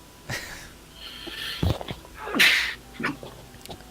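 A single sharp sneeze bursts out at close range, preceded by a few small sniffs and breaths in an otherwise quiet room, during a tabletop Dungeons and Dragons session.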